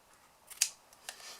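Scissors trim the edges of a chocolate slider box in two or three faint, crisp snips close by, in a quiet setting.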